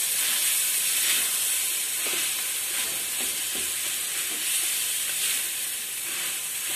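Ground black chana dal roasting in a pan gives a steady, close hiss and sizzle, broken by a few soft scraping stirs, with no talking.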